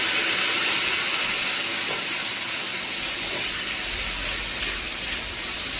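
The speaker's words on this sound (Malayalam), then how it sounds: "അപ്പോൾ നമ്മുടെ ഉള്ളിയൊക്കെ വാടി ഞാൻ തക്കാളി അരിഞ്ഞ് വെച്ചേക്കണ ഇട്ട് കൊടുക്കുകയാണ്" Chopped tomatoes hit softened onions frying in a pan for mutton curry, giving a steady, loud sizzling hiss that continues unbroken throughout.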